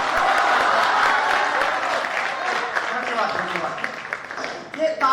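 Audience applause at a Hindi poetry recital held at an ashram graduation gathering, loud sustained clapping from a crowd that gradually thins, with a voice starting to speak near the end.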